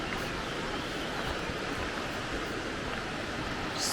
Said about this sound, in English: Just beside some more waterfalls down here.